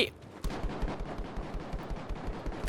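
Rapid, sustained gunfire in Battlefield V, a steady rattling stream of shots with distant battle noise around it, continuing throughout at moderate loudness.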